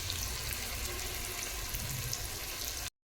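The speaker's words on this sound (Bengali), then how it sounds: "বাকি এখানে পেঁয়াজ ভাজা চলছে" Onions fry in a pan with a loud, continuous sizzle heard up close, cutting off abruptly near the end.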